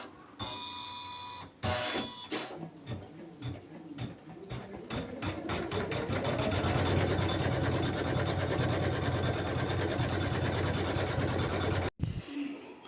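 An electric sewing machine stitches a blouse sleeve up close, starting in short bursts and then settling into a fast, continuous whirring run before a quick stop near the end.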